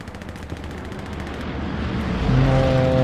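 Rapid bursts of rifle and machine-gun fire crackle in a World War II video game battle, loud and continuous, with a heavier rumble building toward the end.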